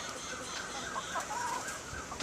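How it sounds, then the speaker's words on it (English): Chickens cluck inside a hen house, soft and fairly distant, a few faint, scattered clucks over a low, steady background with no clear talking. "here's the chickens inside there, inside the hen house"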